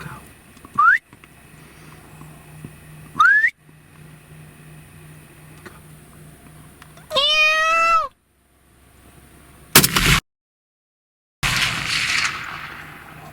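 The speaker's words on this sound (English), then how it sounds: "I told you the meow works" Two short cat meows a few seconds apart, a meow call during thermal hunting in South Texas, followed by a longer warbling whistle-like call, then abrupt bursts of noise and a sudden cutoff.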